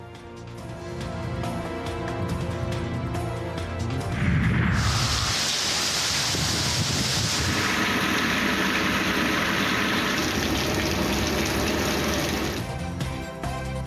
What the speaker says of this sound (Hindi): गरज चमक के साथ मूसलाधार बारिश जारी